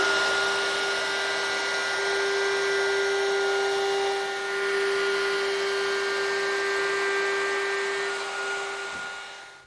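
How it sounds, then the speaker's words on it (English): A handheld router fitted with a 1/4 inch roundover bit rounds over the edges of wooden bed legs, giving a steady, close, high-pitched whine that dips briefly partway through and then winds down. "with a 1/4 inch radius roundover bit in my handheld router, I can go ahead now and round over the edges of each of the 4 legs"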